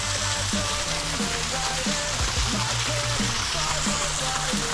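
Steady roar of the Cachoeira do Elo Perdido waterfall on the Trilha do Salto, a dense continuous wash of falling water, close and fairly loud, with music layered over it.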